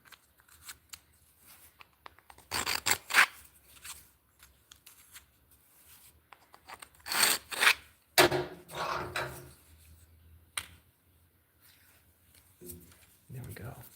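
Small mortises being cut into walnut produce intermittent bursts of scraping and chiseling noise, separated by quiet gaps, with a person talking at times.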